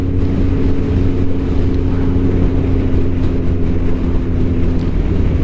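A Kawasaki ZZR1400 motorcycle engine drones loud and steady under hard acceleration to overtake, a constant powerful roar with strong wind rush and no speech.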